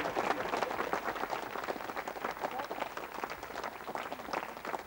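A crowd at a live stage show applauds a young girl called up from the audience: dense, steady clapping from many hands, sustained and moderately loud throughout.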